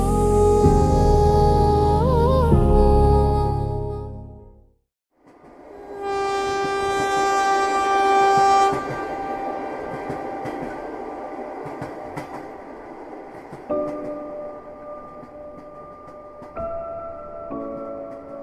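A train rumbles along the rails with a long horn blast at the start. After a brief quiet gap the steady clatter of the running train continues, with tonal hums and whines over it, and no voices.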